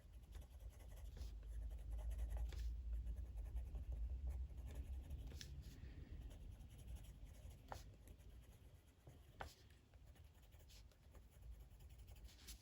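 A coloured pencil shades hard on paper in a colouring book, a close, continuous scratchy rasp with sharper individual strokes, heard alone without talk.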